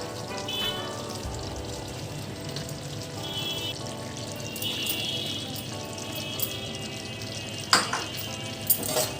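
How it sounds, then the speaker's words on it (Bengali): Capsicum, onion and chili frying in a kadai for dhaba-style kadai chicken over a medium flame, a steady sizzle beneath occasional stirring scrapes and a couple of sharper metallic knocks near the end, heard up close. "এবার আমি এর মধ্যে দিয়ে দিচ্ছি যেগুলো কেটে রেখেছিলাম, ক্যাপসিকাম, পেঁয়াজ আর লঙ্কা দিয়ে দিচ্ছি।"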